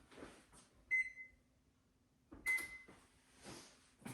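Two bright electronic beeps from an oven control panel while preheat is set to 350, each a clean tone with a short decay, spaced about one and a half seconds apart, near and distinct over faint kitchen background.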